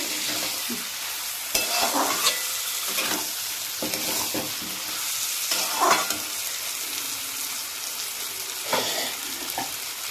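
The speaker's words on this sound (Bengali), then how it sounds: "মশলাটা আমি ভালো করে আলুর সাথে কষে নিয়েছি" Spice paste and potatoes fry and sizzle in a pan while being stirred, with repeated scraping strokes of the spoon at an irregular pace over a continuous close hiss and no talking.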